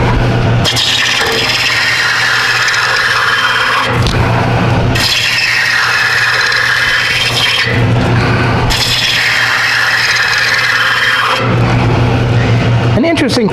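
A roughing gouge bites into a wood spindle turning on a lathe, taking shallow cuts with a rapid feed. Three loud, continuous scraping passes are separated by brief lulls over the hum of the machine.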